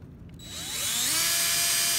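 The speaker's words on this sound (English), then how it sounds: "The next step is to drill some pilot holes." A power drill spins up from quiet to a steady high-pitched whine, its pitch climbing as it bites into the wood, drilling pilot holes.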